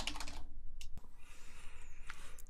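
Keys tapped on a computer keyboard while a new folder name is entered, a short burst of quiet, close clicks with brief pauses over low room hum.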